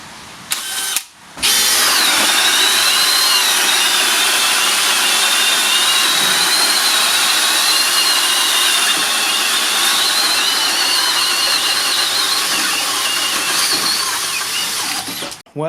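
Cordless hammer drills from DeWalt, HiKoki, Makita and Milwaukee drilling, a loud steady high whine with grinding that runs continuously for about fourteen seconds after a brief pause near the start, with no talking.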